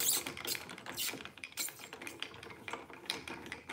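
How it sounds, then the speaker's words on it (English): Screws being removed from a launch-day 2001 original Xbox console, giving quick mechanical ratcheting clicks and turning sounds that repeat steadily throughout, close and moderately loud, with no talking. "We're just taking all the screws out right now."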